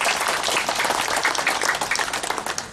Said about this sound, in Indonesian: Tepuk tangan untuk Sidomulyo.